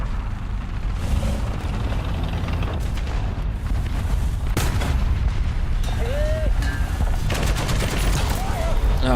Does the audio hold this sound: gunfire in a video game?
yes